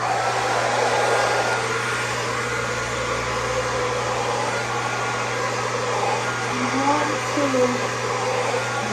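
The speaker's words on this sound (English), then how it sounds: "So I'm going to show you how I blow dry." Hair dryer blow drying hair while it is combed for a silk press, a loud steady close whirring drone running throughout with faint shifting tones and a brief murmur of voice.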